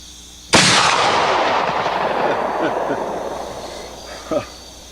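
A single loud rifle shot at a shooting session cracks sharply up close and rolls into a long decaying echo, followed near the end by a fainter second report.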